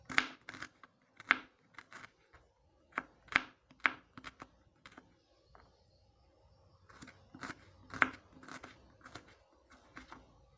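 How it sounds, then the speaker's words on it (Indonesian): Shallots being sliced with a knife on a board, a series of crisp, close cutting taps in irregular bursts with short pauses, quiet and without talk. "Ini bawang merahnya diiris juga 2 siung."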